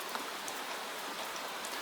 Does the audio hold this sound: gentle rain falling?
yes